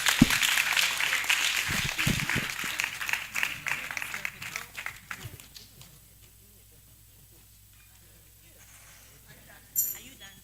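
A conference audience at an annual New Year school and conference gives a round of applause, a burst of dense clapping that fades out over several seconds into near quiet, followed by a brief sound near the end.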